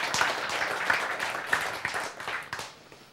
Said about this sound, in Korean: 박수 소리가 그냥 그래요.